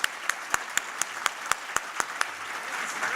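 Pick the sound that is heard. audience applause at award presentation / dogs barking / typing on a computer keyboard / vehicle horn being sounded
audience applause at award presentation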